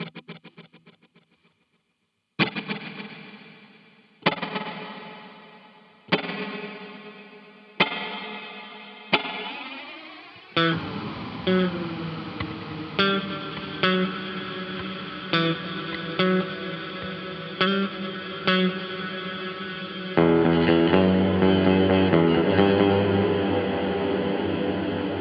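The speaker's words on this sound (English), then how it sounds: "the more I turn this knob clockwise, the more it all kind of blends together into a reverb" Guitar through a Chase Bliss MOOD pedal: a series of plucked staccato notes, each ringing and decaying, gradually smearing into a dense, blended reverb wash that swells louder near the end, with no talking.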